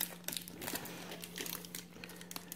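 Paper crinkles and rustles as a paper-lined incubation container holding royal python eggs is opened, a quiet, close run of irregular crackles and crunches with no talk.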